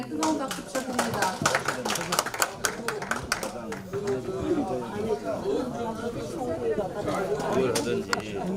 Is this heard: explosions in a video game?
no